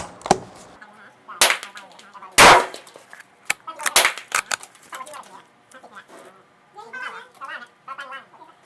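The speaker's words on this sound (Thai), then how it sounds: "เดี๋ยวเราจะลองมายิงดูกลุ่มกระสุนของตัวเจ้า Mossberg MVP ครับ" A Mossberg MVP rifle fires at target practice with a 6x scope, giving several loud, sharp gunshot cracks at irregular intervals, with someone speaking between and after the shots.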